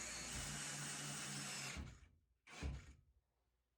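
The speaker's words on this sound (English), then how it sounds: "I'm just using some long construction screws." A power drill drives long construction screws into a pantry wall, a steady whirring run for nearly two seconds, then a short second burst after a pause.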